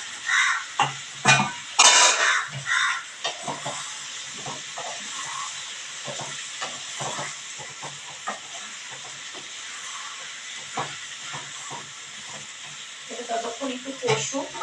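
Spices and salt sizzling and frying in a pan while being stirred, with scraping strokes and steady hiss at moderate volume, louder bursts early on and quieter stirring afterward.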